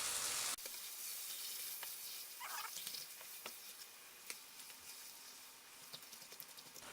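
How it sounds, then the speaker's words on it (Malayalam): Pieces of duck meat sauté in hot oil for a Kerala-style duck curry, a soft continuous sizzle that starts louder and settles into a quieter hiss with occasional light clicks and stirring knocks. "ഇതിലേക്ക് നമുക്ക് നമ്മുടെ ഇറച്ചിയിട്ട് നന്നായിട്ടൊന്ന് ഈ എണ്ണയിൽ"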